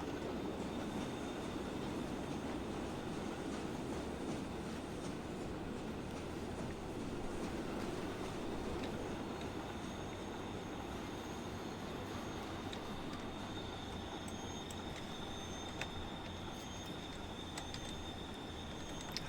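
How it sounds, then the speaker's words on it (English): Trains run continuously in the railway simulation game Transport Fever 2, a faint, steady rolling rumble with clattering wheels and occasional light squeals, with no one talking. "Many trains."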